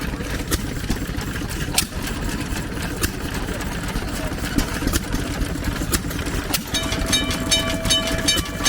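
A train rolls steadily along the tracks nearby, a continuous rumble punctuated by regular metallic clacks of wheels over rail joints.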